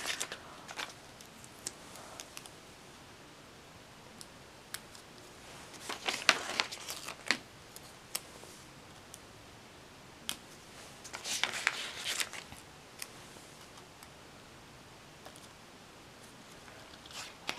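Gold glitter washi tape handled while decorating a planner spread, giving quiet crinkly rustles and soft tearing bursts, with scattered faint taps and a couple of louder crackly stretches.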